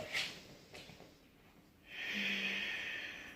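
A person inhaling during a hatha yoga breathing exercise, a quiet close breath with a soft snort-like onset and then a longer, steady airy intake near the end.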